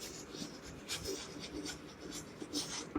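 Chalk or marker writing on a board during a Class 8 maths lesson on percentages, a steady scratchy rubbing of strokes close by, with short pauses between marks and no talk.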